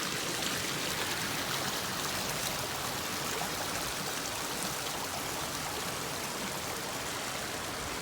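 A river runs beside a small bridge, giving a steady, broad rushing wash of flowing water that stays even and close throughout, with no talking.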